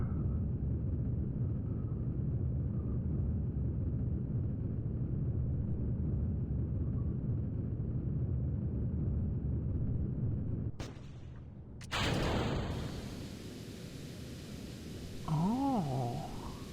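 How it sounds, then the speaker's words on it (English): A rocket stage explodes in the Kerbal Space Program video game: a steady low engine rumble gives way to a sudden sharp blast and crackle, then quieter rumble with a warbling tone near the end. "Prepare for the explosion."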